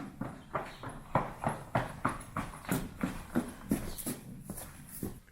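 A horse walking up from the round bales on a winter farm, producing steady rhythmic hoof clops, about two per second, close and moderately loud, with no talking.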